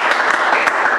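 A church congregation applauds with loud, dense, steady clapping that fills the room, close and continuous.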